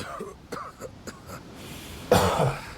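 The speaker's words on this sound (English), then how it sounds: "This guy's freaking coughing like me." In the video game Path of Exile, an enemy lets out a throaty cough and clearing sounds, followed by a harsher, louder raspy cough at the end, heard close among some speech.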